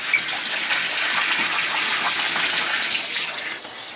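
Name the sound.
water running from a large rainfall shower head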